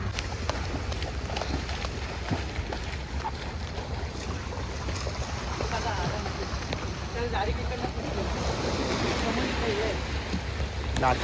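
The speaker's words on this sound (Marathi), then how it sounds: "लाटा बघा कशा आहेत बघा" Stormy sea waves surge and wash steadily against the waterfront at the Gateway in heavy rain and strong wind, a continuous loud roar with boat-like rumble beneath and people talking over it.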